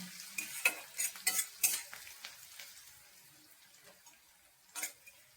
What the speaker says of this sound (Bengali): পেঁয়াজ আমার প্রায় ভাজাই হয়ে গেছে।